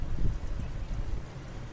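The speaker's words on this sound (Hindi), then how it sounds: "ये बूंदें बरस रही हैं बरसने दो, हवा चल रही है चलने दो, नदी का शोर हो रहा है होने दो" Wind and rain at an outdoor evening spot beside a river, a steady low rumbling wash of gusts and flowing water with soft pattering throughout, no voices.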